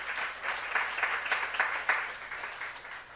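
A church congregation claps together during a Korean youth-group sermon, a steady patter of hands with a few louder bursts, fairly near and with no talking.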